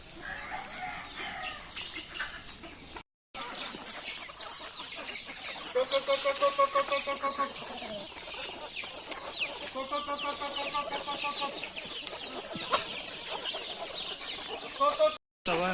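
Chickens cluck in repeated bursts of short, throaty calls over a busy, noisy background, with some faint voices around them.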